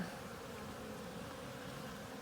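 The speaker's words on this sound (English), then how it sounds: "I'm going to use my pliers and let these little would-be guard bees out" Honey bees buzz steadily at an opened hive during a beekeeping inspection, a faint continuous droning hum with no voices.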